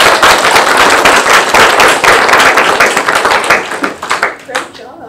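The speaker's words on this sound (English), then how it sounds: "I just want to give a round of applause to Senator Barton and Mr." Close, loud clapping from a student government association meeting crowd rattles out in a rapid, dense burst, then thins and fades out by the end.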